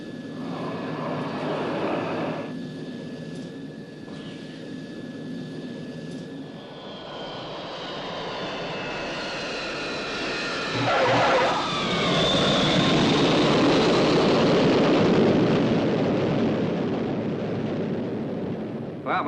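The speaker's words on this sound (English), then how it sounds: "it must be quite a while since you landed an SST" Supersonic transport airliner coming in to land, a loud roaring aircraft rumble that swells and builds steadily, with a rising whine and a dense broadband roar filling the final stretch, no voices.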